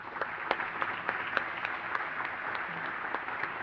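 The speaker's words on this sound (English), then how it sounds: "Can we give them a round of applause?" An audience at the 2023 Jamil Dada Character Excellence Youth Awards ceremony gives a round of applause, a soft, somewhat distant patter of many hands with a few louder claps, sustained evenly.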